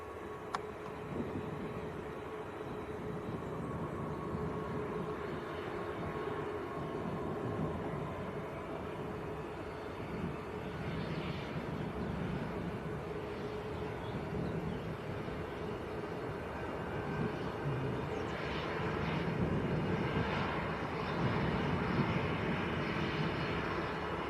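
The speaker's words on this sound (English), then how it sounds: "There we go, a little German citation." Small German Cessna Citation business jet at Manchester Airport, a faint, distant engine hiss and rumble running steadily throughout, rising slightly toward the end, with no voices.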